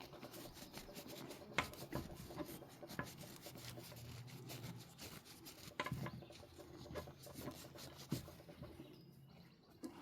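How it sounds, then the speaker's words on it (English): An old 50 franc coin being rubbed clean by hand, giving a soft, close, continuous scrubbing and scraping with a few small knocks, fairly quiet and with no voices. "And just keep rubbing it"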